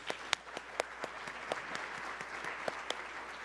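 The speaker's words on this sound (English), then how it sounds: "Let's give her another round of applause." Light applause from a conference audience, faint and sparse, with individual claps standing out as the sound fades in the room.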